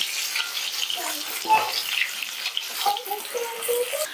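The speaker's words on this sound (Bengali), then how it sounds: "আমি এখানে আলুটা ডাইরেক্ট ভেজে নিচ্ছি" Potatoes fry directly in oil for a Bengali vegetarian aloo dum, giving a steady close crackling sizzle with a few scraping stirs and light clinks, no voices.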